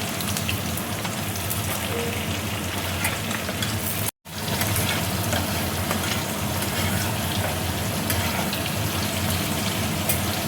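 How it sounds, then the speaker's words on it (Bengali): Nuts frying in hot oil in a frying pan, a steady dense sizzle and crackle held close and continuous, broken by one brief dropout partway through. "ফ্রাই প্যানে দেখো তেল দিয়েছি, তেল দেখো গরম হয়ে গেছে। এবার আমি বাদামটা দেখো দিয়ে দিচ্ছি।"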